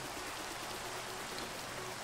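Steady rain falling in the Minecraft video game, a dense, even hiss of drops that holds constant throughout with no talk over it.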